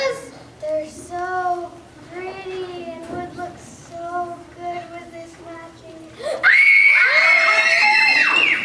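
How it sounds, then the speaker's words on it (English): Girls' voices shriek and squeal excitedly, rising into a loud sustained burst of overlapping high-pitched screaming near the end, with kids chattering before it. "We heard screaming."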